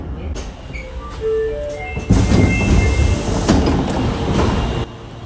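An Osaka Metro Sennichimae Line four-car train pulls into the platform at Minami-Tatsumi station, with a falling motor whine followed by a loud rumble and rattle of the cars.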